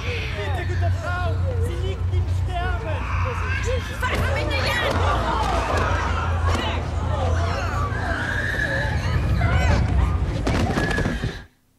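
Dense background crowd chatter from a busy public scene in the video game Wolfenstein: The New Order, a steady hubbub of many overlapping voices with some traffic-like rumble underneath, continuous and fairly loud throughout.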